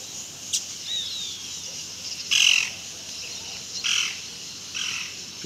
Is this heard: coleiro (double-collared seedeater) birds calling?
yes